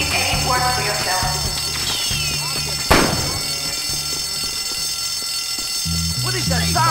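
A fire alarm rings in the school of the video game Bully, a continuous electronic alarm tone beneath voices talking, with a sharp impact-like burst partway through.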